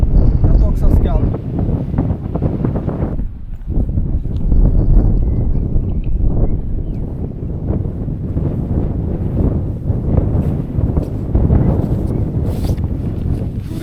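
Gusty wind by the river Meuse buffets the microphone in a deep, continuous roar that swells and eases, with someone talking throughout.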